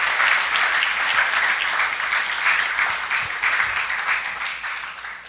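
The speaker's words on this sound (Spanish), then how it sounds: "Dele el aplauso fuerte al Rey." Loud, dense applause from a church congregation honouring the King, a continuous wash of many hands clapping that holds steady for several seconds and tapers slightly at the end.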